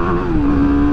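A BMW G310R single-cylinder motorcycle engine held at a steady high whine against its 11,000 rpm rev limiter, loud and close, a brief sustained tone with no talking.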